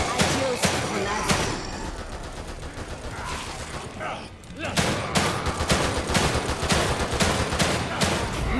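Dense, continuous gunfire and a grenade blast in The Evil Within 2 video game, loud rapid bursts of shots layered over each other with a brief dip before the firing resumes.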